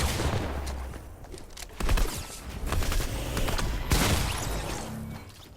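Rapid bursts of gunfire from the video game Fortnite, dense and loud with overlapping shots that swell around the middle and again near the end.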